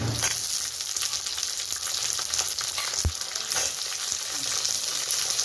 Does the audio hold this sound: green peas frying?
yes